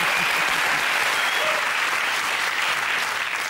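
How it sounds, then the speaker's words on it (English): A TV panel show studio audience applauds loudly and steadily, a dense wash of clapping that holds at full strength throughout. "Oh, round of applause."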